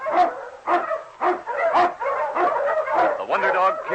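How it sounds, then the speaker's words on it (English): A husky sled dog barks in a series of sharp, repeated barks and yips at close range, mixed with voices in an old-time radio drama set in the snowy Yukon. "The Wonder Dog King, swiftest and strongest of Eskimo lead dogs"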